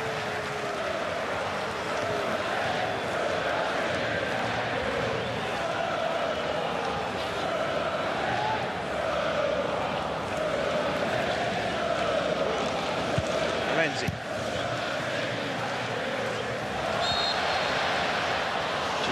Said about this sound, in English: Just hear the crowd singing their appreciation of Tim Cahill